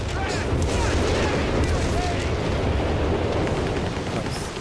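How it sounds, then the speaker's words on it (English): An anti-tank Stuka dive attack in Company of Heroes 3 lands as a dense, continuous roar of explosions and gunfire, loud and close, with a commentator talking over the battle noise. "Could we see another kill on the Stuka? Anti-tank Stuka, let's go!"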